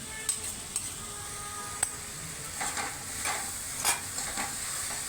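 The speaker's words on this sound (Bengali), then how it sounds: "এগুলো ভালোভাবে মিশিয়ে নিচ্ছি লঙ্কার গুঁড়ো যেগুলো দিলাম।" Pav bhaji masala with chili powder is stirred in a pan, producing soft scattered scrapes and taps over a low, quiet sizzle and hiss. Close but faint, with no talking.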